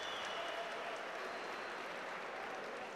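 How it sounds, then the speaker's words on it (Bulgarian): Applause from the crowd at a European boxing championship bout, a faint, distant, even patter of clapping that runs through the arena. "Аплодисменти."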